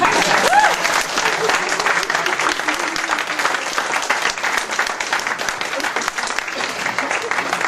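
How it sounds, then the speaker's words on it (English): Wedding guests applaud during the father of the bride's speech, a loud, continuous burst of clapping from a crowded room with some cheering voices mixed in, holding steady throughout. "Round of applause, everybody."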